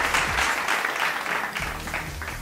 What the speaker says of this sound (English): There's my applause.